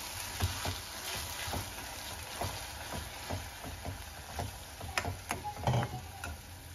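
Tomato puree being stirred into lightly sautéed vegetables in a pan for creamy pink pasta, with soft scraping strokes and a steady low sizzle running throughout, a few sharper clicks of utensil against the pan.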